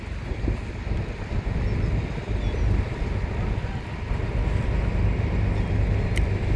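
A fishing boat moves through the sea, throwing up spray. Continuous engine rumble, rushing water and wind noise hold at a steady loud level from start to finish.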